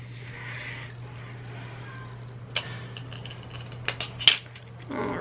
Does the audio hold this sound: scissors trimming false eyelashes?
yes